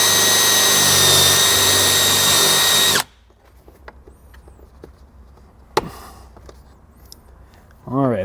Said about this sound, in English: I'm going to use a smaller drill bit first, and then we're going to work our way up to a 5/8